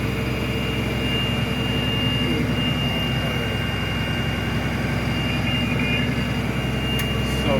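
A school bus diesel engine runs at high idle to build air-tank pressure, a loud, constant low rumble with a steady whine layered on top, unchanging throughout and free of speech.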